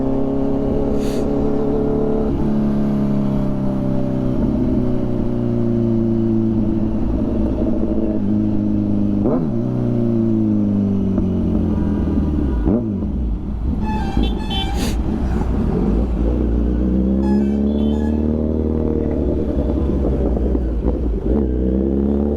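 A Kawasaki Z900 motorcycle engine runs loud and close, revving up and down repeatedly with rising and falling growling pitch over a steady rumbling idle, a brief chirp of other noise near the middle.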